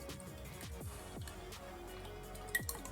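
Cold Greggs latte pours from a small can into a glass, with soft splashing, dripping and squishy liquid sounds and a few brief drips near the end, heard close and alone.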